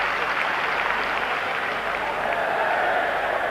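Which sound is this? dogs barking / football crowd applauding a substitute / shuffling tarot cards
football crowd applauding a substitute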